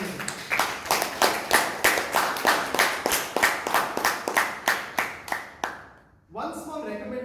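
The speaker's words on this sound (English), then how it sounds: "a huge round of applause for our president" Rhythmic, fairly close group clapping at a Toastmasters club meeting in Bangalore, in steady unison beats for the club president, stopping abruptly before a person starts talking.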